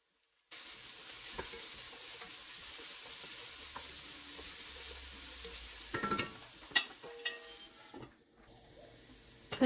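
Minced garlic sizzles in a pot with chopped onion and carrot, a steady close frying hiss broken by scraping stir strokes and a few clatters toward the end.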